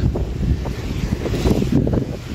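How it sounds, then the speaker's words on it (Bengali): Strong stormy wind gusts over open water, recorded from a small dinghy, roaring and buffeting the microphone continuously and loudly with a dull surge of waves beneath. "ডিঙ্গি নৌকা, ছোট্ট নৌকা, প্রচন্ড ঝোড়ো বাতাস"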